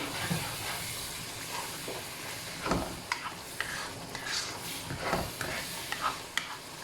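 Spices with salt, red chilli and turmeric frying in a pan for Punjabi-style mixed dal, a steady soft sizzle broken by repeated scraping stirs of the spoon, close and fairly quiet, with no one talking.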